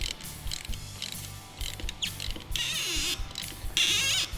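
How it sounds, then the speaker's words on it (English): Squeaking, creaking ratchet-like clicks come from a Polaris RZR Pro R flip windshield clamp as it is tightened, in repeated short bursts that grow longer and higher toward the end, heard close and alone. "Once they start to squeak, that means they are good and tight"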